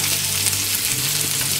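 Snow peas and onion sizzle and sauté in hot oil, a steady broad frying hiss running continuously with a low hum beneath, close and fairly loud with no talking.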